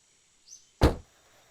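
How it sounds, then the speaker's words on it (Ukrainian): A car door opening: a faint short squeak, then a single sharp thud-clunk of the latch releasing, close and brief against near silence. "Открываем дверь."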